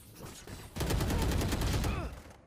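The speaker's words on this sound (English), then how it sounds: "Early shot coming in." Rapid burst of Valorant gunfire in a collegiate match, a dense rattle of shots lasting over a second after a quieter lead-in, with a voice faintly underneath.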